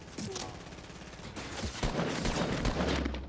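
Rapid machine gun fire in the Fortnite video game, bursts crackling quickly over roughly three seconds at moderate level, with game noise and a voice underneath.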